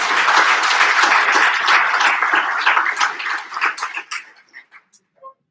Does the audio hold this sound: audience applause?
yes